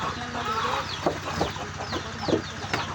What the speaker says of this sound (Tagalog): Yung mga manok na puti. Pag nagutom, nag-aagawan sila.